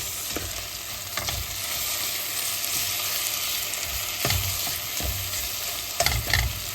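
A mung bean dish with ginisa mix sautés in a pan, giving a constant dense sizzle with occasional clinks and scrapes of a spatula, close, with no voices.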